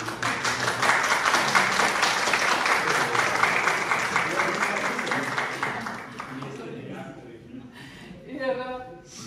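Dense audience applause at an evening gathering, loud and sustained for about six seconds before fading, followed by a speaker's voice.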